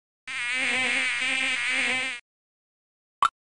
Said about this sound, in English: Turnip takes care of the beehives, where honey is made by bees.